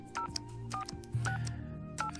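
A phone call being dialed in the adventure game Shenmue III, a short run of tonal beeps and tones with a low hum beneath, quiet and without talk.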